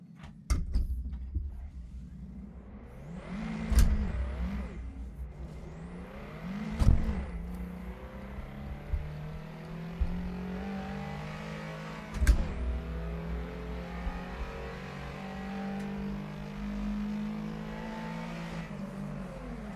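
A car with an H-gate manual shifter drives and drifts in five gears, its engine droning and rising and falling in pitch through gear changes, with several sharp knocks and a steady background whir.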